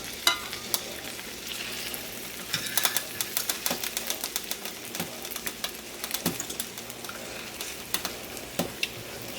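Breaded chicken legs fry slowly in a pan, crackling in a steady, fairly quiet sizzle scattered with sharp little pops and spits, close up, with no one speaking.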